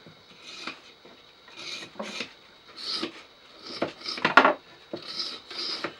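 A wired wooden beehive frame is scraped and cleaned close by, with short rasping strokes and bursts of scratching at an uneven rhythm, separated by quiet pauses, and one sharper metallic twang near the end.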